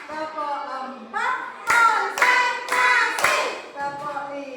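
Several sharp hand claps in a quick rhythmic pattern during a first-grade classroom lesson, close and loud, mixed with children's voices chanting along.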